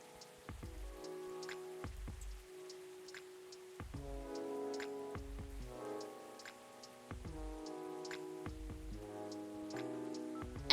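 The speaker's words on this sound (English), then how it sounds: "Ah, yes. Another rainy day." Soft, steady rain patters in the background of the video game Coffee Talk, a faint continuous hiss beneath gentle, repeating musical notes, with no talking.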